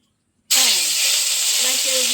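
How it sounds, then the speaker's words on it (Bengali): Fish sizzles in a frying pan: a loud hiss bursts in suddenly and continues steadily, with a voice talking faintly underneath. "হ্যাঁ এখন আমি ভাজছি"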